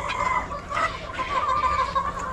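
Sick chickens on a poultry farm cluck and call in a dense, close chorus, overlapping cries rising and falling without a break.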